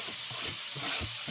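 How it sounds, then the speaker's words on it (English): Butter and chopped vegetables, including onions, hit a hot pan with a steady close sizzle and hiss, broken by a few soft low thumps as the food lands, with no voices. "just want to take and throw that butter in there along with these veggies"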